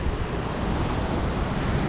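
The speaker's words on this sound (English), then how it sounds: "It's really windy" Strong wind roars steadily across the microphone while hammock camping outdoors in Snowdonia National Park, a dense, loud rushing noise with no pauses.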